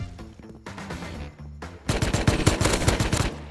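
Rust gunfire: a few spaced shots, then a dense burst of loud rapid automatic fire with sharp, evenly repeated cracks.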